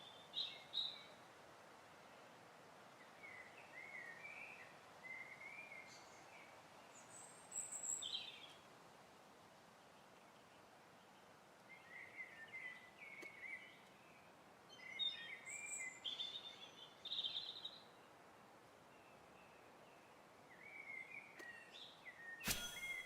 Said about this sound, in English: There's quite a few birds on this side.